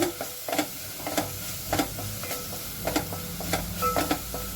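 Chickpea curry sizzles in a hot pan as turmeric is fried in, with a steady frying hiss broken by regular scraping strokes of a spoon stirring against the pan.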